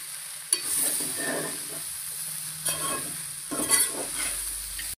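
Puffed rice tiffin is stirred and fried in a pan: a spoon scrapes the pan in short strokes over a steady, soft sizzle, close and without talk.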